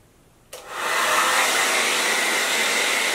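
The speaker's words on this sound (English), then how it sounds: "I feel like warm heat blow dries better than just" A hair dryer on its warm setting switches on with a sharp click and settles into a loud, steady rushing blow while drying natural low-porosity hair after a wash-and-go, with no talking.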